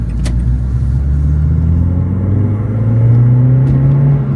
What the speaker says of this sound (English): It's quite loud, that exhaust, you know.